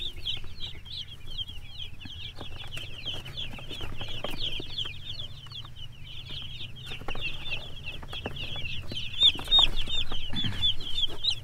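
Young free-range broiler chicks, about 45 days old, peeping and cheeping continuously in a busy flock, with constant high chirps over a low background hum, fairly close and growing louder toward the end.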